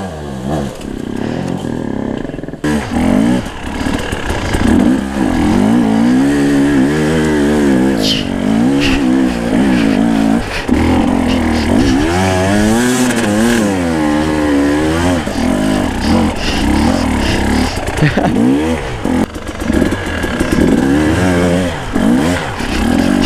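A loud, close enduro motorcycle engine revs and accelerates repeatedly for over twenty seconds, its pitch swooping up and down through throttle changes, with rattling clatter mixed in.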